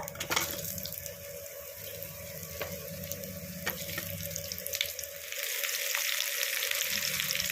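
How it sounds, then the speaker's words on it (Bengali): Cut mango pieces fry in hot oil with a steady crackling sizzle that swells louder toward the end, mixed with occasional clicks of stirring, close and unaccompanied by speech. "দেখুন গরম তেলের মধ্যে আমগুলোকে দিয়ে দিয়েছি"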